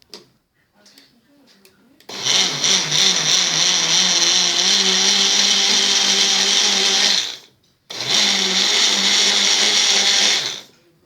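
Blender mixing milk with chocolate powder into a milkshake: a loud, close, whirring motor runs for about five seconds, stops briefly, then runs again for about three seconds, after faint handling noises.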